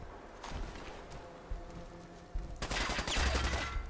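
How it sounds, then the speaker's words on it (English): Shotgun fire in the Fallout 4 game, with a couple of sharp blasts early on, then a loud, dense burst of gunfire near the end, close and punchy. "Shotgun to the gut."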